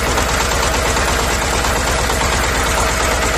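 A mini tractor engine idles steadily with a rapid, rattling chug, loud and close, running without pause.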